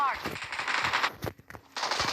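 Automatic rifle gunfire in a shooter video game, bursts of rapid shots filling most of the clip with a short lull near the middle before firing resumes, loud and close.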